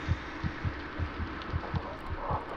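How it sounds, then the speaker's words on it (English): A rapid heartbeat from the video game Among the Sleep thumps in a steady quick rhythm of about eight low beats, fairly faint over a hum. "I don't like my heart beating so fast."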